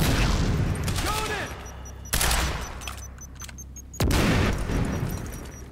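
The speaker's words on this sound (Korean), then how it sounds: "쟤네 무슨 수류탄을 저렇게나 던지지?" Grenades explode amid sustained gunfire in a firefight in the video game Quantum Break, with loud booming blasts cutting in over continuous rattling shots.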